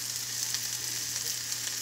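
A Loma Linda burger patty frying in a pan gives a soft, steady sizzle with faint crackles throughout and no talking.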